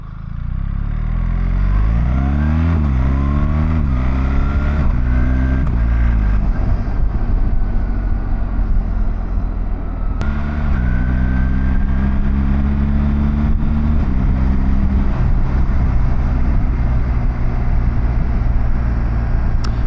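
A BMW motorcycle with the Automated Shift Assistant runs loudly and close, its engine note rising and dropping through several gear changes, with audible shifts and clutch engagement over a steady, rough exhaust rumble.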